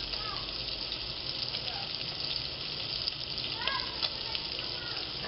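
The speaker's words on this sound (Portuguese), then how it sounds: "Aqui a água já está fervendo." Water boils in a pot for pasta with a continuous bubbling, gushing hiss, close and steady, while a few faint chirpy squeaks rise briefly over it.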